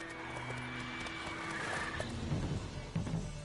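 A horse neighs and whinnies in The Witcher 3, a clear close call over running hoofbeats, with in-game ambience and music behind it.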